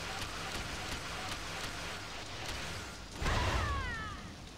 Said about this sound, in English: Oh crap, they made it rain